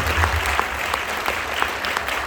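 An audience applauds steadily at a student music awards event, a dense wash of many hands clapping at even loudness from start to finish, with no talking.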